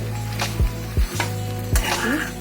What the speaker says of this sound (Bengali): এবার একটুখানি নাড়াচাড়া করে শুকনো করে নেবো এটা।